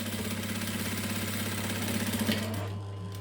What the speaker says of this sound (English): we're just going to stitch as close to that edge as you can without running off